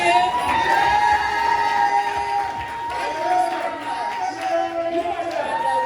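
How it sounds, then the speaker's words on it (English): An audience at a live entrepreneur dating game event cheers and whoops for the host, a loud, sustained crowd roar full of shouting voices. "I really just want to give a round of applause to our host"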